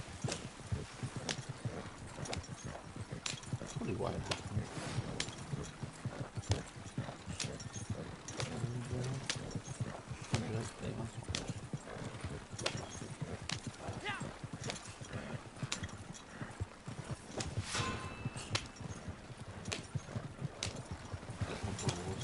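Horse hooves clip-clop at a steady walking pace in the Red Dead Online video game, with an occasional whinny, heard continuously under someone talking throughout.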